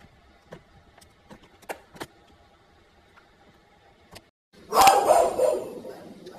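A dog gives one short burst of barking late on, loud and close, after a stretch of quiet clicks and small handling sounds.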